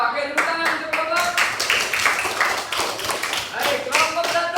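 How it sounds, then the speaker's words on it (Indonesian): A primary school class claps for a group of classmates, irregular bursts of hand claps from a small room of children, close and fairly loud, with voices calling out between and over the claps. "tepuk tangan untuk kelompok"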